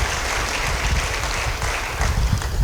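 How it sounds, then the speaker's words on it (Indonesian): A church congregation applauds during a sermon: steady, dense clapping with no breaks, loud and close. "Beri tepuk tangan bagi dia."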